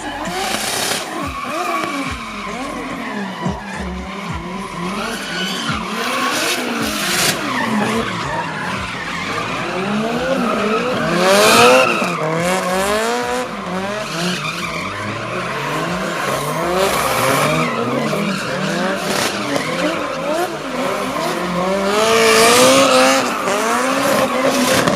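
A drift car skids at a car show drift exhibition, tires squealing in long wavering howls over engine revs, loud and continuous with repeated slides, while a crowd and some voices are audible in the background.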